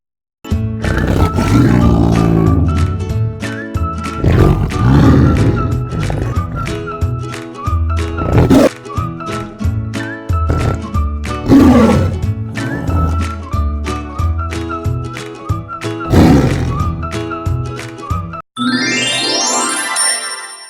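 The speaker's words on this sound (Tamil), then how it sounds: "Tiger growls." A tiger gives several deep, rumbling growls and roars at a slow pace over a loud musical backing, with brief pauses between the calls.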